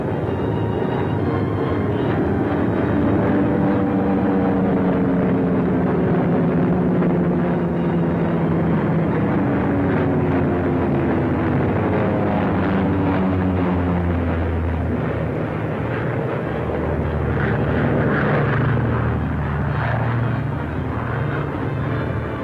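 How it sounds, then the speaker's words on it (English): Returning WW2 bombers fly in and land at an Alaskan airfield, a loud, continuous droning roar of piston engines with shifting, wavering tones throughout. "Bombers went out, and 6 are coming back."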